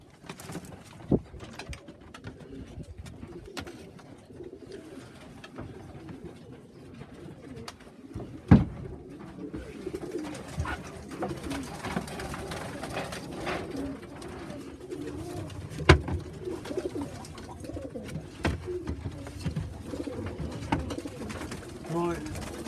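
Young pigeons cooing softly and steadily as they are let out for the first time, with a few sharp knocks and rustles, while someone talks nearby.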